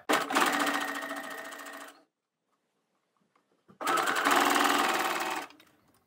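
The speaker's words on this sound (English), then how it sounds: "Check my clearance and I'm ready to sew." A sewing machine stitches a stretchy t-shirt neckline with a twin needle and lengthened stitch, running loud and steady for about two seconds, pausing in near silence, then running again for a similar burst.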